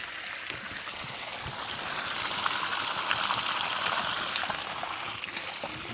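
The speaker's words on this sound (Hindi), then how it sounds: "जमीन के अंदर से बाहर आ रहा पानी" Cold, fresh groundwater gushes steadily from an automatic motor pump in a remote Kazakh village, a continuous splashing rush that swells slightly louder midway, with no talking over it.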